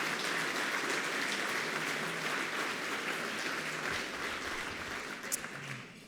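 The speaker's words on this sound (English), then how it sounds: "I think we all owe them a round of applause." Steady, dense applause from an audience at a Wall Street 50 evening event, holding at a constant level before thinning slightly near the end.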